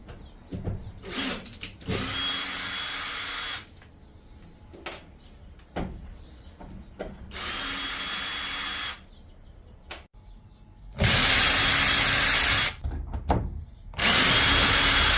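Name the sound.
power drill removing screws from old camper plywood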